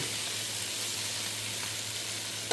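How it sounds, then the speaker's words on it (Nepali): Chilli chicken fries in a pan with a steady, close, even sizzle that holds for a couple of seconds and ends in a small clatter. "ओके, यसलाई फ्राई गर्छु होला मैले"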